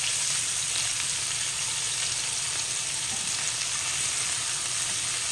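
Burger patties seasoned with salt and pepper fry in a pan, giving a steady, dense sizzle that runs unbroken at even loudness throughout, close up and without any talk.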